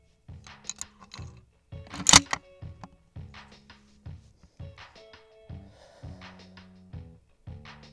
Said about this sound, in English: I'm just gonna bolt this thing open and toss a round in.